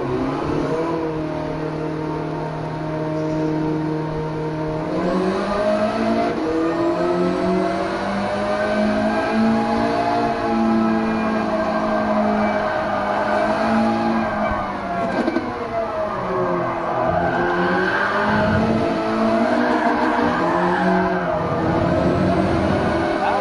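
Video game car engine revs loudly and continuously, rising and falling in pitch with repeated acceleration surges, alone without talk.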